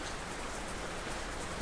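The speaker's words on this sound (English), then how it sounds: "I don't know if you can see the rain coming down, but it's gotten a lot bigger" Heavy rain falling steadily in large drops, a dense, even hiss close by with no voices.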